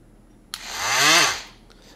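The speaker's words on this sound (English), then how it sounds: "Oscillating tool." A cordless oscillating multi-tool for metal fabrication starts up abruptly and runs for about a second with a rising then falling buzzing whine, close and fairly loud, before winding down into quiet.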